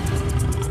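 A tiger in a Hindi cartoon lets out a short, rumbling roar, loud and close in a brief burst.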